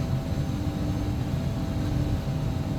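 An ERJ 145 regional airliner in the X-Plane flight simulator braking on the runway after landing, a steady loud engine and rolling roar that holds constant throughout.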